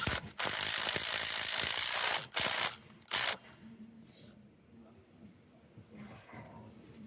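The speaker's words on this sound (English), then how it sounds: "So we're gonna take our new bolt, thread it on, get our impact driver, and send it home." An impact driver tightens the bolt holding an N Performance Alcantara steering wheel on a Hyundai Ioniq 5 N, firing three short, loud rattling bursts, followed by quieter handling noises.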